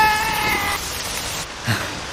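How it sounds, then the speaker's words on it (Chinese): Rain falls outdoors in the mountains as a steady, close hiss, with a fading tone over it at the start and no talking. "下雨了！"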